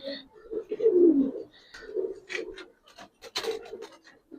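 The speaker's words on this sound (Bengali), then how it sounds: "এটা একটা সাপচিলা কবুতর কিন্তু এই কবুতরটা অনেক ফ্লাই করে" A Sapchila pigeon, a flying breed, cooing nearby in a series of low throaty coos with short pauses, accompanied by light rustling and faint background sounds.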